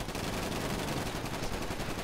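Rapid gunfire in GTA V Online, a sustained loud burst of shots filling the whole stretch with no talking over it.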